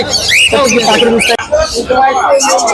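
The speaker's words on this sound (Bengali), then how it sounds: "দর্শক আমরা দেখতে পাচ্ছি মাশাল্লাহ এখানে রয়েছে অনেক লরি পাখির কালেকশন" Lories, parrots and other birds squawk and chirp in a busy bird market at Mirpur 1, close and loud, mixed with someone talking over the calls.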